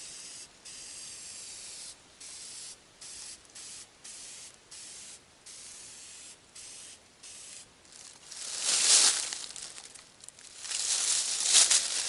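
Aerosol paint sprayed in short repeated bursts onto a rusted steel target plate, steady hiss cutting in and out, then two longer, louder passes near the end.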